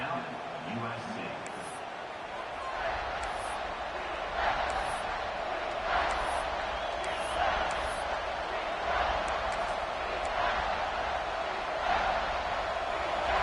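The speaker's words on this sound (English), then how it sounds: "this crowd is at fever pitch" A large stadium crowd at an American football game roars continuously, a loud sustained wall of cheering with sharp whistles and shouts rising above it throughout.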